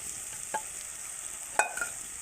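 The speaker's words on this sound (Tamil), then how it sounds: "ஆட் பண்ணிட்டு நல்லா கிண்டி விடுங்க." Bitter gourd gets stirred into chili masala in a pan for a tamarind curry, giving a soft background sizzle and a few sharp scrapes and clinks of a spoon against the pan.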